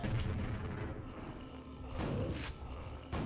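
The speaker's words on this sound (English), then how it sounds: "Watch out for those grenades" Grenade explosions in the Quake video game on a DM4 deathmatch map, a loud rumbling boom trailing off, followed by further blasts and a sharp hit near the end.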